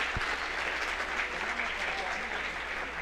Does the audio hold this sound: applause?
yes